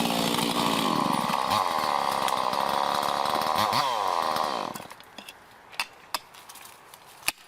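A chainsaw roars loudly as it cuts into the base of a large pine tree, then cuts off, leaving a few sharp knocks and thuds in the quiet.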